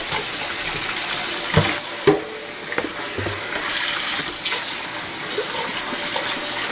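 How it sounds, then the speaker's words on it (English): Running tap water pours steadily into a kitchen sink as something is rinsed, a close, continuous splash broken by a few knocks and clinks of handling. "Rinse it out."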